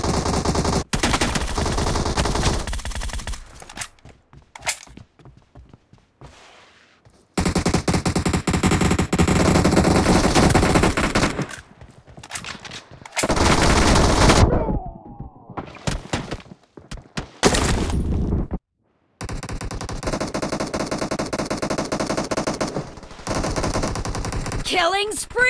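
Rapid automatic gunfire bursts in an online shooter video game's gun game mode, loud and close, firing in long sustained volleys separated by brief silences, with occasional single shots and a few short gaps.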